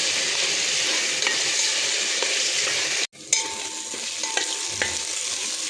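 Coconut masala is stirred into a sizzling fish curry in a pan, a steady bright frying hiss with scraping stirs, close up, with a brief pause midway and no talk.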